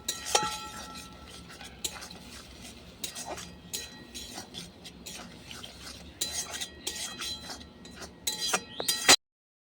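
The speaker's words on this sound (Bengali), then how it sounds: "চিংড়ি মাছের সাথে মশলাগুলো কষিয়ে নেব" Prawns and spices being stirred in a pan over a clay stove, with a steady run of close metallic scrapes and clinks from the spoon against the pan, busier toward the end.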